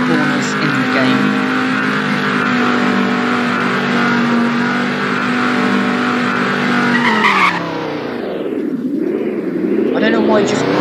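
Car braking and crashing in the Roblox Greenville driving game: a steady, loud engine drone with tire skidding, then an abrupt shift into crash noise near the end.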